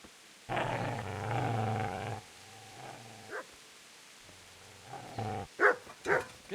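A dog in the video game Kingdom Come Deliverance growls long and low, then lets out a few short barks and yips, close and clear with quiet gaps between.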